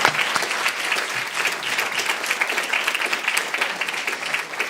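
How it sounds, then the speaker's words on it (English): Steady, dense audience applause closes a conference session on joint and double degree programmes in Europe, sustained and even throughout with no pauses. "Thanks for the Big applause."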